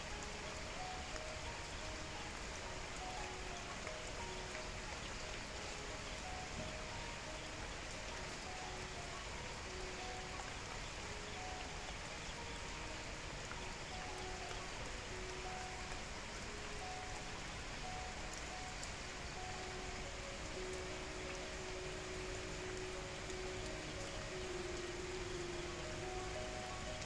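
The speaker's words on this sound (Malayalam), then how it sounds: "നല്ല മഴ പുറത്ത് പെയ്യുന്നുണ്ട്" Heavy rain pouring outside, a constant dense wash of falling water heard from indoors, even and steady for the whole stretch with no voices.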